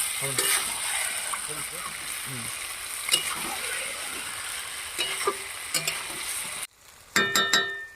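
Marinated chicken frying in a pan with browned onions and turmeric, a steady sizzle with intermittent stirring and scraping, then louder clattering spatula hits near the end.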